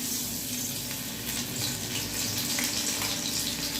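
Gram-flour coated pumpkin flowers frying in oil, a continuous close bubbling sizzle with steady hiss and no talk.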